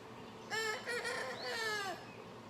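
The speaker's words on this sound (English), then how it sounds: "Rooster agrees." A rooster crows a single long, clear cock-a-doodle-doo at a moderate distance over a quiet background, with no talking.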